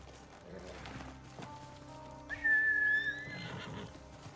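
A horse in a video game lets out a loud, clear neigh midway, with soft hoof clops and background game ambience before and after.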